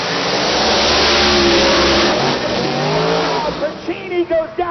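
A Hemi-powered Pro Drag Radial race car blasts down the drag strip, its loud, sustained engine roar filling the air before fading, with commentator speech over it.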